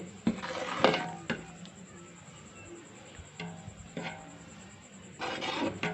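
Herbal powders being turned together in a big vessel, with a few sharp metallic scrapes and clinks of a spoon against the pot over a low, steady rubbing background.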